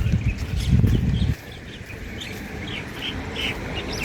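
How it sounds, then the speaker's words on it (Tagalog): Birds chirp in the morning at Seeb Beach near palm and flowering trees, bright repeated tweets at moderate distance over a low breezy rumble that is louder for the first second. "So yan, mga ibon ngayong morning."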